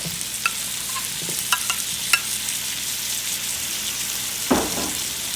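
Tomato goes into a pan of garlic and meat frying together. A continuous sizzle runs under scattered sharp clicks of stirring and a louder burst near the end, all close, with no talking.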